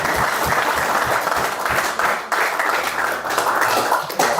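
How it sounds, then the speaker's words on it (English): Loud, sustained crowd applause for two cricketers after an IPL innings, a thick continuous clapping wash with a few distinct nearby claps and faint low hum beneath. "Should we give them a round of applause?"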